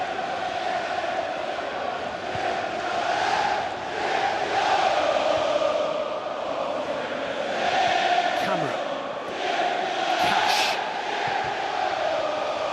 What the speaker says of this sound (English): the noise inside Villa Park is growing